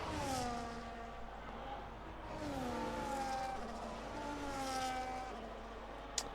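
Formula 1 car in a racing video game, its engine whining through rising and falling gear sweeps as it drifts on a wet patch through turn 6 at the Spain circuit, steady and loud with a brief click near the end.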